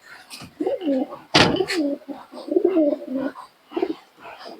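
Pigeons coo in short, low, warbling bursts close by, with a sharp clattering knock partway through and pauses between calls.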